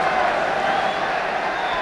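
A 40,000-strong crowd at a 1975 Arsenal versus Manchester United football match before kick-off, a steady dense roar of voices and scattered clapping, loud and constant.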